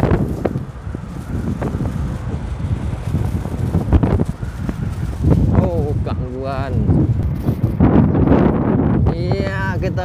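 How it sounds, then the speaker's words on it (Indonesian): Strong gusting wind buffets the microphone near wind turbines on a cold coastal road, a loud continuous roar with low rumbling surges, while people talk over it. "maaf suara angin ini besar ini"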